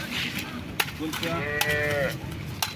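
A cow lows briefly amid a busy outdoor crowd at the Modnimb cow market, with clicks and knocks and faint voices around it.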